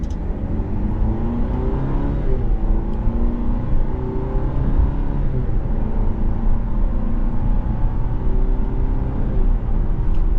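A 2025 Cadillac CT5 Sport AWD accelerates after a manual downshift, its engine a loud, steady rising drone with a deep rumble heard from inside the cabin, continuous and without talk.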